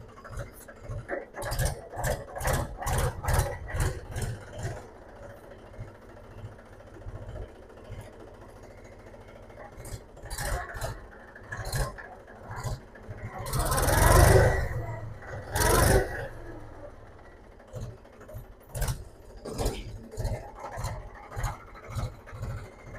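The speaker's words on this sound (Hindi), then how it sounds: "अब मैं थोड़ा सा ट्रैक्टर को आगे पीछे आपको चला के दिखा देता हूँ" A 2013 Mahindra 265 DI tractor engine runs with rhythmic mechanical chugging and clattering as it is driven back and forth, swelling to a louder rough surge midway before settling back.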